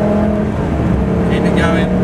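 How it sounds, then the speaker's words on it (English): A Lamborghini Gallardo engine drones loud and steady under throttle from inside the car, a strong sustained tone filling the cabin while a voice talks over it. "start squeezing the throttle, right hand side, feed the power on"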